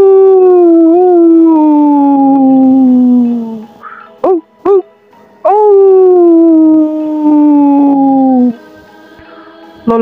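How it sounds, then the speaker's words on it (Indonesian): A dog howling at night: long, loud, sliding howls close by, broken in the middle by a few short sharp yips before the drawn-out howling returns. "Lolongan anjing malam mendadak membangunkan Tohar dari tidurnya."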